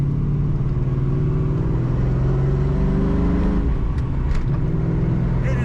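A 1999 Ford Mustang SVT Cobra convertible running steadily up close, its engine giving a loud continuous drone with a whine layered over it, alone without talk.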